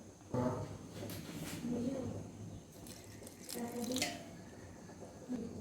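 Water poured into a mixer grinder jar holding coconut chutney ingredients in a home kitchen, a splashing, trickling flow in a few bursts over roughly five seconds, moderately close, with faint background hum.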